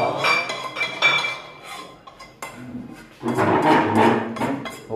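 Pots, pans and metal utensils clink and clatter close by in a string of sharp, ringing knocks, with busier rattling bursts near the end and no talking.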